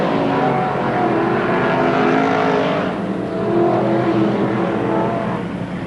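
Modified race cars roar around the Merrittville dirt track at a 1988 heat race, a loud, constant, rasping engine drone with a swell as cars pass close, no voices.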